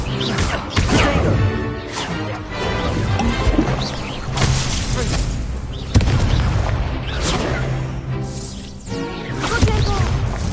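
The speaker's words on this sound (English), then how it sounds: "Incendio" Spell explosions erupt in rapid succession during combat in Hogwarts Legacy, a Fire spell among them, with loud booms and crashing bursts that keep the sound dense and continuous over layered game effects.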